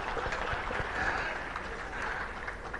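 A theatre audience claps in steady, dense applause that holds at an even level from start to finish, soft and slightly distant, with no talking on top.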